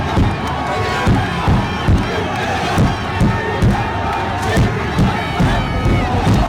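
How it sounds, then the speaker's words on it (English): A large crowd of East Bengal football ultras at the Kolkata Derby chants loudly in unison, with regular booming drum beats keeping a steady rhythm throughout. "Flag waving, drum beating, 90 minutes of chanting"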